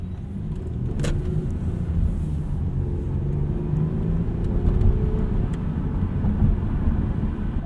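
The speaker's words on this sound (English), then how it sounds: "that V6 engine is just a sweetheart" A 2005 Toyota Solara coupe's V6 engine hums smoothly while driving, a steady low rumble with road and cabin noise, continuous and fairly close with no talk over it.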